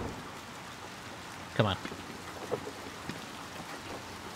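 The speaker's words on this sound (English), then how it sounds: "Let's get out of the rain." Steady rain hisses in the game Little Nightmares II, a soft, continuous patter under a brief spoken voice and a few faint thumps.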